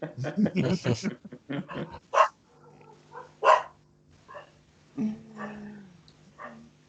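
Someone talks briefly, then dogs bark territorially with scattered single barks at a moderate distance, spaced irregularly over a low background hum.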